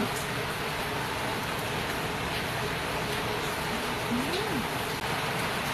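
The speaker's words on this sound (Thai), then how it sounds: "ได้ยินเสียงฝนไหมคะ ฝนอาจจะดังนิดนึง" Steady rain hisses evenly throughout, a constant wash of noise with no break.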